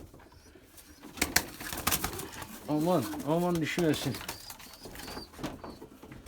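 Pigeons in a loft give a couple of low, rounded coos in the middle, close by, with someone talking softly over them and faint rustling and wing movement around.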